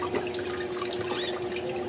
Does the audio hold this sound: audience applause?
no